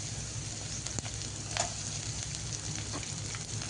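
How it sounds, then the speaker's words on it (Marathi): Chopped garlic, onion and capsicum sauté in a pan for veg Manchurian, making a steady, even sizzle throughout with a few faint stirring clicks, close and fairly quiet. "बारीक चिरलेला लसूण, कांदा, कांदा चांगला परतून झाला की टाकणार आहे शिमला मिर्च"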